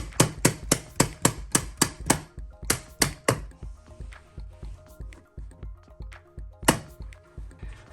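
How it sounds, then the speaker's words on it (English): Stair runner carpet being fastened to stairs with a staple gun, a fast series of sharp, close thumps in even rhythm, then a pause and a few more isolated shots. "Okay, I'm gonna pre-form all the way along. Staple every inch."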